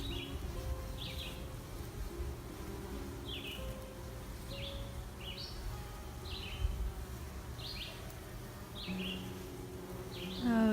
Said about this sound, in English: it's the bumblebees that are doing all the work over here.